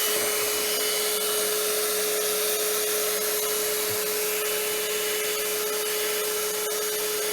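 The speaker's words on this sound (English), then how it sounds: "turn the vacuum off" A steady, loud vacuum drone with a constant hum and rushing suction noise on car upholstery, running unbroken with no talking.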